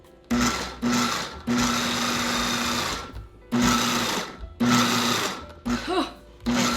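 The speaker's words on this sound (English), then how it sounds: "And now we blitz." A blender blitzing vegan dressing ingredients, including onion powder, salt and pepper, in several loud whirring bursts of a few seconds each, with short pauses between them and a brief voice in one gap.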